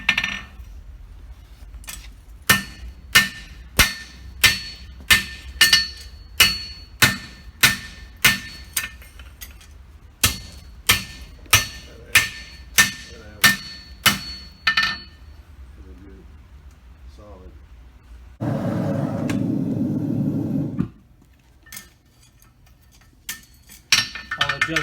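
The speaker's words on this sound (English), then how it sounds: "I'm hitting on the outside. I'm going to use the flat side of the hammer." A farrier strikes a steel hind horseshoe with the flat side of a hammer on the outside edge to adjust its shape. Two runs of evenly spaced, ringing metallic blows come close and loud, followed by a short burst of rougher noise.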